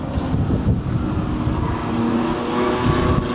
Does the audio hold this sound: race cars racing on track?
yes